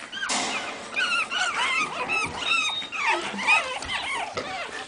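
A litter of five-week-old pug puppies squeals and whines continuously in overlapping high, wavering cries, close and fairly loud, with small scuffles underneath.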